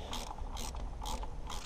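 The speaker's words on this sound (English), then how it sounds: "Tighten everything down." Hand ratchet tightening bolts on a Mercruiser 4.3 thermostat assembly: four quick, evenly spaced bursts of clicking, fairly faint and close, with no speech.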